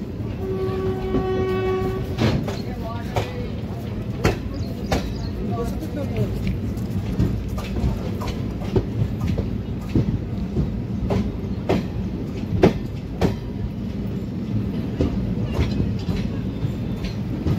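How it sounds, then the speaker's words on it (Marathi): A train pulling out of Partur station sounds a horn briefly at the start, then rolls along the rails with a steady low rumble and rhythmic clicking wheel knocks, heard from on board, with voices in the background. "तर मित्रांनो 9:16 परतूर स्टेशनवरून आपली ट्रेन निघालेली आहे."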